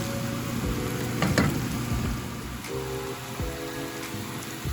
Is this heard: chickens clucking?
no